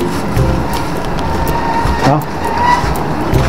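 Roadside traffic with many motor tricycles passing: a continuous engine rumble and drone, with vehicles swelling and fading close by, and a busy street wash under it.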